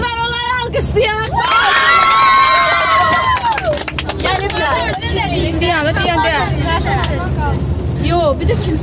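Children on a trip cheer and shout for students amid noisy crowd babble, with a loud voice speaking over the din throughout, close and sustained.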